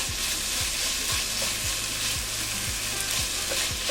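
Ginger garlic paste sizzles loudly in a pan while it is stirred, the spoon scraping in a regular rhythm about every half second over steady frying crackle.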